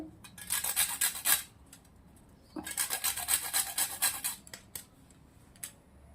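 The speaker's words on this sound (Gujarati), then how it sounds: "અંદર જાયફળ છીણી લેવાનું છે. તો જાયફળ પણ નાખી દેશો છીણીને આવી રીતે." Nutmeg grated into dudh paak, a Rajasthani-style sweet milk dish: two bursts of dry, rhythmic scraping strokes against a metal grater, close and fairly quiet, with a short pause between them and no talk.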